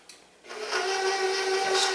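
An electric mixer blends molasses into cookie dough. After a brief quiet moment its motor starts up and settles into a steady, close, high whirring drone.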